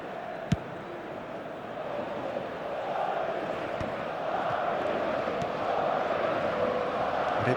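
A stadium crowd in the eFootball video game roars steadily and swells slightly louder over several seconds, a broad continuous wash of cheering with a brief sharp knock near the start.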